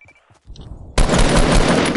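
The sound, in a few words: gunfire while shooting at an enemy, from video game DC Universe Online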